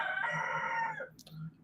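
A rooster gives a full, drawn-out crow that rises and trails off, heard at moderate distance and somewhat faint, followed by a brief rustle and a low background hum.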